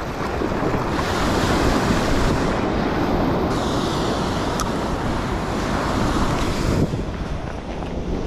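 Ocean surf with breaking waves on a New Jersey beach during a fall striped bass run, a loud continuous roar of churning water and wind noise on the microphone throughout, with no voices.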